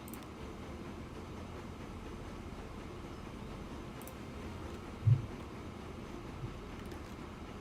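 A heavy 633-ton train runs through a railway video game, giving a steady low rumble with wind-like noise throughout and a brief thump near the end, no voices.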